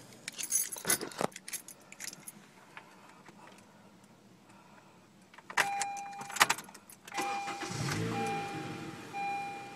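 A car engine cranks and starts after keys jangle and the door and interior click. A steady idle hum with a chime tone follows at moderate loudness.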